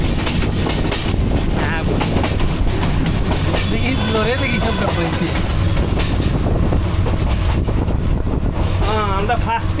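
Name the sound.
train ride in first class compartment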